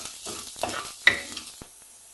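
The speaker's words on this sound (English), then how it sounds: "Now fry the chopped onion. Fry until light brown." Chopped onion sizzles in a pan for masoor dal bhuna, a soft close frying hiss with a few stirring scrapes and one sharp clink midway, fading near the end.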